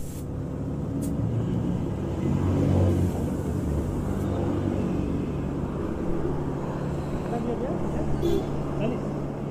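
Car engine idling with a low, steady rumble and occasional revs, heard up close on a road trip from Kolkata to Malda, with people talking over it.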